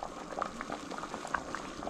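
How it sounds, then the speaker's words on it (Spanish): Tomato and zucchini soup boiling gently in a pot, a steady close bubbling and popping with soft liquid burbles throughout, no talking. "Como vean ustedes, está hirviendo un poco."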